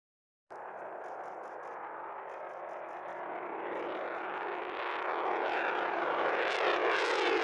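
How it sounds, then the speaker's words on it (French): F-22 fighter jet aircraft flying, a loud steady roar that starts abruptly and swells gradually in intensity, heard alone without talk. "Les F-22 sont impressionnants."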